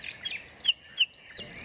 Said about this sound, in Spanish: ha sido difícil tratar de filmar a esta ave cantando